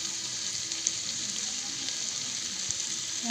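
Pieces of pork fry in their own rendered fat, giving a steady, close sizzle with faint occasional pops and no talk.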